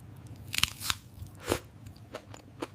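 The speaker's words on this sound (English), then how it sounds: "This chicken is so incredibly crunchy. Listen to this." Crunchy spicy fried chicken bitten and chewed close to the mic, a few sharp crackling crunches followed by softer chewing crunches, no talking.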